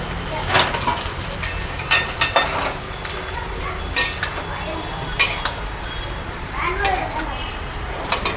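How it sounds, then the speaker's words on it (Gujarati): Gotli mango seeds stirred in a pan over a low flame, with a spoon scraping and clinking against the metal in irregular strokes, close and fairly loud, while a voice speaks throughout. "હળવા હલાવતા રહેશું જેથી કરીને ગોઠલી નીચે દાજી ન જાય"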